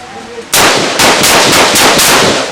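M4 rifles open fire together on a firing range, several guns shooting at once. After a brief quiet moment, loud, close, sustained rapid gunfire fills the clip with overlapping cracks in an uneven rhythm.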